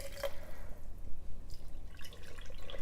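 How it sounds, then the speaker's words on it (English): Salt water brine is poured into jars of fermenting vegetables with sea salt, giving a close, uneven trickle and dripping splash throughout. "just simply pour the salt water between the 2 jars"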